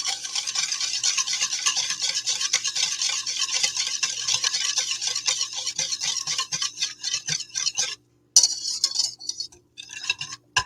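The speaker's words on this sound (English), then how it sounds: "Now we're just going to mix this up." A spoon briskly stirs poke sauce with a little cane sugar in a bowl, giving a steady, rapid scraping and clinking rhythm that runs for several seconds, pauses briefly, then resumes.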